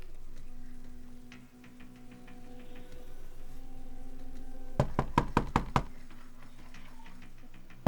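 Knocking on an apartment door in a building hallway: a quick burst of about six sharp, loud raps over steady background hum, with no talk.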